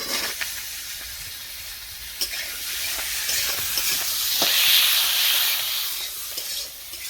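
Potatoes and drumstick stalks frying in a pan of oil in a village kitchen, a continuous close hiss and sizzle that swells midway, with occasional stirring clicks and no talking.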